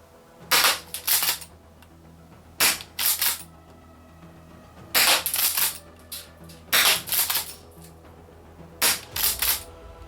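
A Secutor Arms Invicta gas-powered shotgun fires BBs in sharp, loud, close reports, six shots in quick pairs and singles with pauses between, each followed by a brief mechanical rattle.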